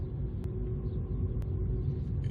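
Inside a 2014 Ford Fiesta 1.25 Zetec on the move, a steady low road rumble and muffled engine drone fill the cabin, with two faint clicks and no voices.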